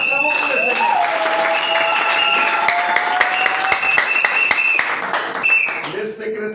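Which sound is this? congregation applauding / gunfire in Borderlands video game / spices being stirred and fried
congregation applauding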